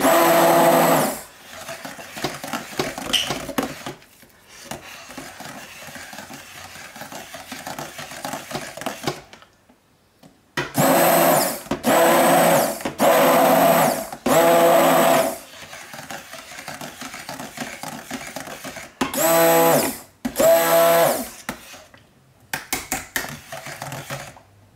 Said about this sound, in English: So keep stirring and use your stick blender.